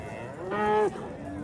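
A single cow at a livestock bazaar in Chimyon gives one short, close moo of under half a second over quiet market background.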